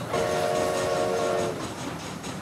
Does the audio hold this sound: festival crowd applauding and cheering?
no